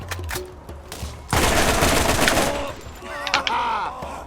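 Gunfire from the Borderlands video game: a burst of scattered shots, then a long dense fusillade of rapid fire, with excited players shouting over it.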